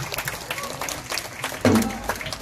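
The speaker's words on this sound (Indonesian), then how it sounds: "Tepuk tangan yang meriah." Audience clapping at a gathering in Bogor, Indonesia, moderate and somewhat diffuse, with a voice briefly rising over the applause near the end.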